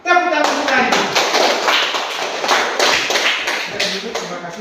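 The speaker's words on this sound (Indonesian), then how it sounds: "Tepuk tangan untuk Rani" A classroom of children claps for a classmate, a dense, loud burst of hand claps and taps throughout, with a voice briefly at the start.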